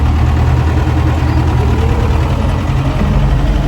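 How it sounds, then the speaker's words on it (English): A tractor engine idling nearby on a Kentucky hay farm, a loud, steady low chugging throb that continues without change. "Idle this tractor down a little bit."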